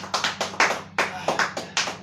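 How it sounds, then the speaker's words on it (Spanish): Church congregation clapping in distinct bursts, roughly eight loud claps or short clusters over two seconds in an uneven rhythm, with a low musical drone underneath. "Un aplauso fuerte al Señor."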